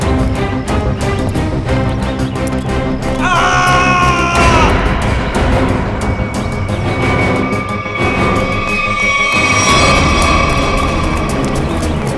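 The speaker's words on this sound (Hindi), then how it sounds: "ये आवाज, ये चीखने की आवाज कहां से?" A loud, sustained scream rises over a dense, noisy background, with a second shrill cry breaking through later.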